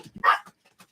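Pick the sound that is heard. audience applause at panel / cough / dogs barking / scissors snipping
dogs barking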